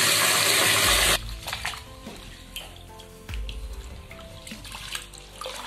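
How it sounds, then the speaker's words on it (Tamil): Water runs loudly into a vessel of soaked rice, then stops. The grains are swished and stirred, and smaller splashes and drips follow as the water is drained off, with the kitchen sounds close by. "இப்ப கழுவி தண்ணி சுத்தமா வடிச்சு எடுத்துக்கலாம்"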